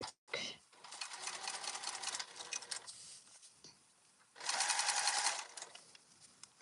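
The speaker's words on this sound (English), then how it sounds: "now I'm trying to make sure that all the layers here are getting top stitched" Sewing machine top stitching through several folded fabric layers of a travel organizer, running in two bursts of steady rapid stitching, the second louder, with quieter handling sounds between.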